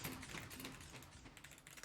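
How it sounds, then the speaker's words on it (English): Rapid, continuous typing on a clicky computer keyboard, dense close-up key clacks in an even rhythm with no voices. "The keys are so nice, little clickety clack."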